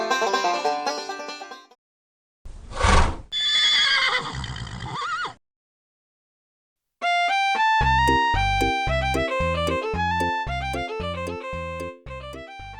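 Horses neigh and whinny in a couple of loud, close calls separated by silence, followed by swelling orchestral music.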